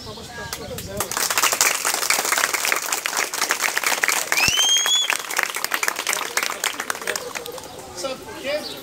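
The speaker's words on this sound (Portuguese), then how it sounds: "Eu quero que vocês deem uma salva de palmas para todas elas." Children at an environmental education and cleanup event clap and cheer for their teachers and the school director, dense applause filling the whole stretch with lively crowd chatter and a brief high whistle-like squeal midway.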